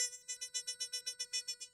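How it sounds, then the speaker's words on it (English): A quick run of about a dozen short, evenly spaced electronic beeps, clean pure tones pulsing in a steady rhythm like a Morse code message, fairly quiet and alone. "That was the Morse code message"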